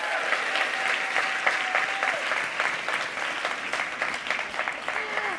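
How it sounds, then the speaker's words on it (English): An event audience delivers a sustained round of applause, a dense, even patter of clapping at moderate volume with scattered voices and a few whoops mixed in. "Give yourselves a round of applause."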